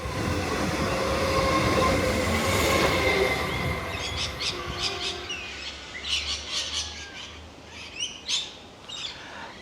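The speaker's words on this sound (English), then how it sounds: "I like the sound of trains." A train rumbles loudly past nearby in Australia, then fades as the noise thins out, leaving bright chirping Australian birds calling in bursts.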